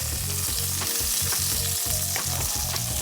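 Bacon frying in a hot pan, a thick, constant close-up sizzle with crackling pops, heard alongside a looping background music beat and no talking.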